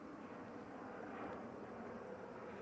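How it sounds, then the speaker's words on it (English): An airplane passing overhead outdoors, a steady low broadband roar with a gentle swell, faint and distant, continuous throughout with no voices. "there's a plane going overhead and I'm outside"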